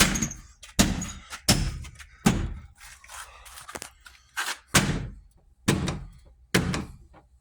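A rear door panel on a Chevy truck is knocked into place during a door handle repair, giving about eight loud, hollow thunks spaced roughly a second apart, close up and with no talking.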